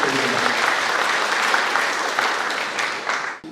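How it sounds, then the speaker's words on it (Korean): Sustained crowd clapping at a community town hall meeting, even and full for about three seconds, with a brief voice at the start and the applause tapering toward the end. "큰 박수 부탁드립니다."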